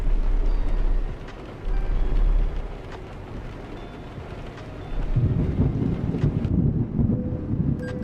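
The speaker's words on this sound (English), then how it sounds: "It sounds like Florida with all the thunder here." Thunder during a storm in Euro Truck Simulator 2, low rumbling swells that rise and fade in long waves, fairly loud with faint rain-like hiss above.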